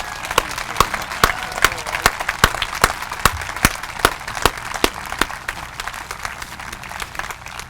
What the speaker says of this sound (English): Let's give these people another round of applause.